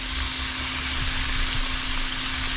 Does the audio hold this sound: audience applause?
no